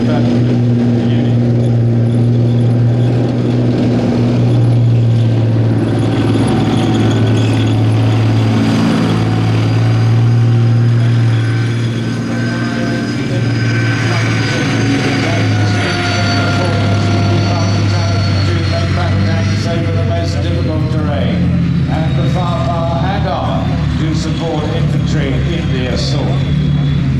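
The Theatre Entry Standard Platform armoured vehicle, nicknamed Megatron, from the Warrior family, drives past at an evening tank show, its loud, deep engine drone and track rumble continuous and near, with a public-address voice talking over it.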